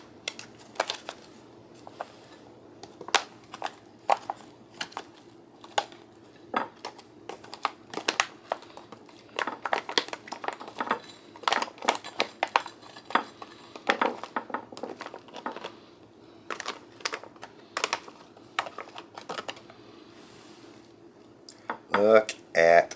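Freeze-dried Great Western breakfast skillet being scraped and spooned onto a plate, with repeated close clinks and scrapes of a utensil against the dish in an uneven rhythm, a brief voice near the end.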